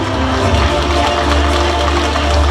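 A large audience applauds in celebration at the opening ceremony of the 13th Korea Wine Festival in Yeongdong. The clapping is dense, steady and loud throughout, with a low rumble of a crowded hall underneath.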